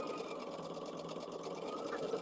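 A sewing machine hums quietly and continuously while quilt blocks are chain-sewn one after another, a soft, even mechanical whir heard close but faint.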